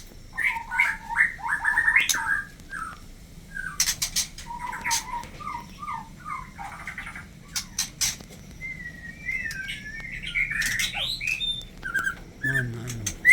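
Pet birds and their young chirp and tweet in repeated short bursts close by, with fluttering wing flaps and a few sharp clatters, over a low background hum.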